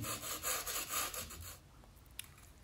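Rhythmic back-and-forth rasping of coarse sandpaper on a wooden rubber-powered model airplane wing, several quick strokes close by, then stopping into quiet.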